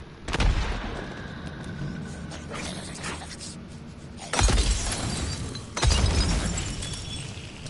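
Frag grenade blasts in a video game: a heavy boom with shattering debris, followed by two more loud explosions in quick succession amid ongoing game sounds.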